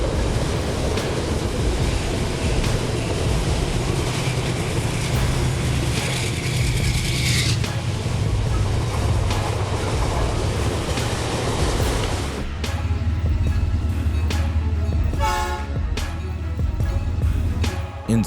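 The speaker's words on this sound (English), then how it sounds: "two trains emerge from the Gallatin Tunnel at the same time" Two trains roll out of the Gallatin Tunnel at the same time, a loud, close, continuous rumble and clatter with bursts of screeching wheel squeal near the end.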